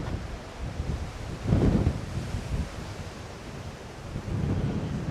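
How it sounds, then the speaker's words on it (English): Strong outdoor wind buffets a microphone at a house renovation site in Portugal, a low, rumbling roar that swells in gusts around the middle and again near the end, with no one speaking. "Hopefully it's cutting out some of this wind."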